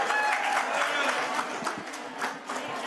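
Audience applause at a Nepali stage show following a song announcement, steady broadband clapping sustained throughout, moderately loud with crowd noise beneath.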